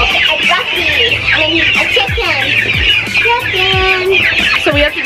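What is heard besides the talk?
chickens clucking on a farm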